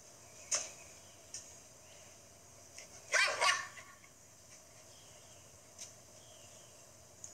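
A dog barks once loudly in a short burst, with a few fainter yips and clicks scattered around it over low background hiss; no talking.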